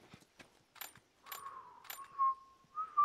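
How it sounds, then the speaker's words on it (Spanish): A character whistling in the video game The Last of Us, a clear held whistle tone following a few light clinking sounds, fairly quiet with no talk over it. "¡Estoy silbando!"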